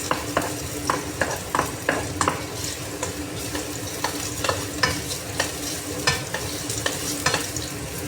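Crabs fry and sizzle in a pan being cooked for kinamatisang alimango, with a steady crackle of oil under repeated rhythmic stirring scrapes against the pan, close and fairly loud with no talking.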